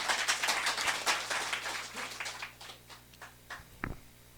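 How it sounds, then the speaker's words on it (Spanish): A congregation claps hands at a spiritual fiesta in Kiñacc, Huanta, a quiet, rather distant patter that fades into a few scattered claps near the end. "Dale palmas a Cristo Jesús."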